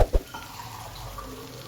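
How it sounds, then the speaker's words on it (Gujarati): Half a glass of water is poured into a pan of paneer kofta gravy with garlic and melon seeds, a quick close splash followed by a short, low liquid trickle. "અને હવે અડધો ગ્લાસ જેટલું પાણી એડ કરી દઈએ"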